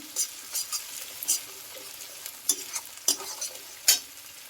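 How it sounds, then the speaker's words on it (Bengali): Ground cumin and coriander paste are stirred into hot oil in a pan over low heat for a Bengali rohu fish and potato curry, giving soft sizzling under irregular scraping strokes of a spoon. "এটা এর সঙ্গে তেলের সাথে একটু নেড়ে নেবো।"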